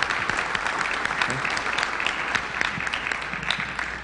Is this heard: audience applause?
yes